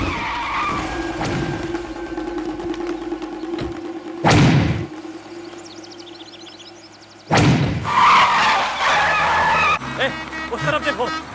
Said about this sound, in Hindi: गाड़ी रोक।